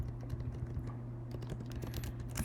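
Rapid, irregular key clicks from a computer keyboard as code for a Go interpreter parser is typed, close and quiet over a low steady hum, with no talking.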